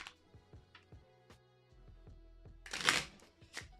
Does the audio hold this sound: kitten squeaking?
no